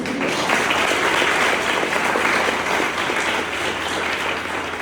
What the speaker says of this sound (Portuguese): Que você possa aplaudir a Jesus.